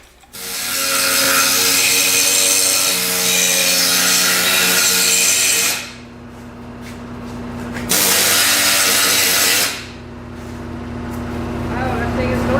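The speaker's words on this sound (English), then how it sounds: "I'll use a reciprocating saw and cut that off there" Reciprocating saw cutting through metal on a vehicle exhaust, two long loud buzzing cuts with a harsh rasping tone separated by a brief quieter pause.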